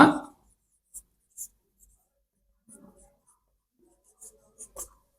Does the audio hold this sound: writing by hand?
yes